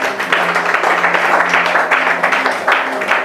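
Church congregation applauding, dense and close, a steady run of clapping hands with faint voices mixed in beneath it.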